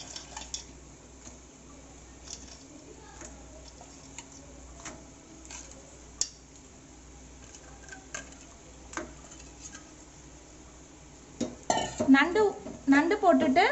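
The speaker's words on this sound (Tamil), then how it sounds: "நண்டு போட்டுட்டு நம்ம நல்லா மிக்ஸ் பண்ண போகிறோம்." Crab is added to pepper masala in a pan and mixed, heard as sparse clicks and scrapes of a utensil against the pan, faint and close, with louder clattering and stirring at the end.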